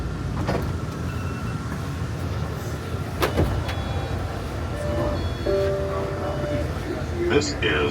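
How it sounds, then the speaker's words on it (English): A Boston T subway train pulls into Assembly station under a steady low rumble of the car, followed by a mechanical whir and clunks as the doors slide open, with an automated announcement voice playing. "Doors will open on the left."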